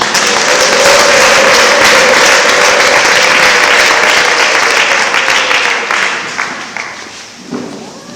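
Loud, sustained applause from a large crowd, dense and steady before thinning out and fading toward the end.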